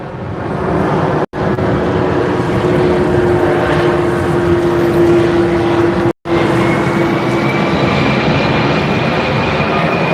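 Aircraft passing over Waikiki near Magic Island, a steady, loud broadband roar that sustains throughout with a faint rising whine, briefly cut by two short dropouts.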